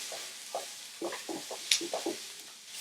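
Stir-fry vegetables, carrots and onions among them, stirred and scraped in a hot oiled pan, giving a series of distinct knocks and scrapes over a steady sizzle at close range, with no talking.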